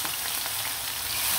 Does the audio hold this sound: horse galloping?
no